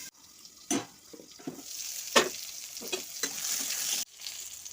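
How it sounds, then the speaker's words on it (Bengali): Pointed gourd (potol) fries in oil over raised gas heat. A hissing sizzle builds through the clip, with a few close scraping stirs, and cuts off sharply near the end. "আমার পটলগুলো কষা হয়ে এসছে গ্যাসের আঁচটা একটু বাড়িয়ে দিয়েছি"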